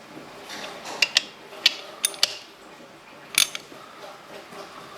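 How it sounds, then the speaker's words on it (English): A ratcheting wrench being worked on the camshaft bolts of a Honda CRF 250 engine during a rebuild, a series of sharp close metallic clicks and creaks in small clusters with quiet gaps between. "Hear that torque wrench? Click!"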